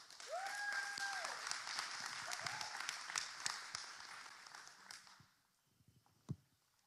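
Audience applause at a political candidates forum, a steady wash of clapping from a crowd lasting several seconds before fading out, with a brief thump near the end.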